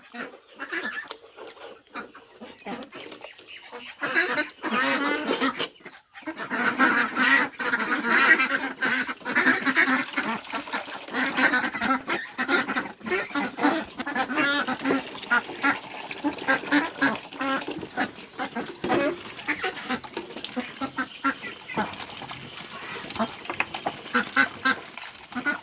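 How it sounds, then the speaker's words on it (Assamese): A flock of domestic ducks on a farm, fed rice bran and starter feed in the morning, quacks loudly and continuously after a quiet start, many overlapping calls close by with some honking. "এয়া আমাৰ হাঁহখিনি দানা খাই উঠি পেলাই চৰিবলৈ গ'ল।"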